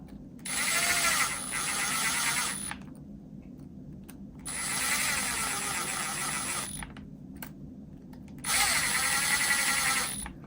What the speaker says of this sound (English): Get these started, and then we'll run them in with the gun.